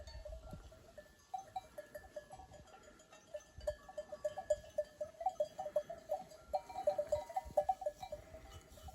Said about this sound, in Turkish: Koyunlar bu saatte duruyorlar. Hiç kımıldamadan yayılıyorlar.